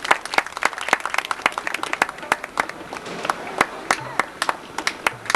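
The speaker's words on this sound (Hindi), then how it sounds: "अनुरोध करूंगा जोरदार तालियों के साथ उनका भी स्वागत" Audience clapping to welcome a guest at a spiritual discourse gathering, a dense run of sharp individual claps with uneven rhythm, fairly close and loud throughout, without speech.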